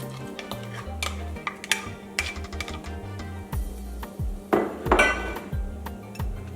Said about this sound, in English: Now to this, I'm adding 1 whole chopped onion